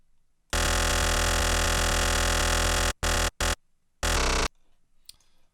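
A bright, buzzy wavetable synthesizer lead with no processing holds one sustained note for a couple of seconds, then plays three short stabs separated by silence.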